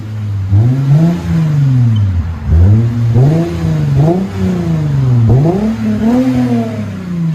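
A Lexus IS 250 2.5L engine revs repeatedly through its aftermarket exhaust, rising and falling in a series of strong, throaty bursts with a smooth, loud, rasp-free exhaust note, close by and without talk.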